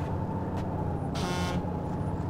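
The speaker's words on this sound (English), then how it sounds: "Hey, John, ring your bell." A single short bike horn honk in the DayZ video game rings out over a steady, loud engine drone.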